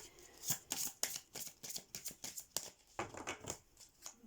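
Tarot cards shuffled by hand for a love reading, a steady run of close, crisp riffling slaps repeating about every half second, with no talking.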